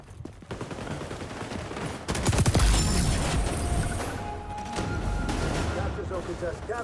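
Gunfire in a video game, shots coming through a wall as a rapid burst of loud cracks and crashes, with a denser, louder stretch in the middle and game noise around it.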